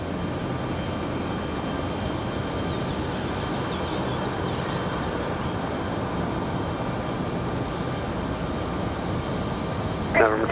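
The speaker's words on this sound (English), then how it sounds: "is going to be those turboprops of the FedEx ATR" A FedEx ATR turboprop near Raleigh-Durham airport produces a steady, broad engine roar that stays even and continuous throughout, with a faint tonal hum riding over it and a brief louder bump at the very end.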